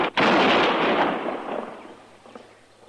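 A single sharp gunshot cracks out in a radio-drama Western shootout at an arrest, followed by a long, fading echo that tails off over a couple of seconds, with no voices.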